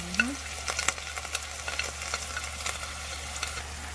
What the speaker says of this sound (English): I'm just adding the onion to it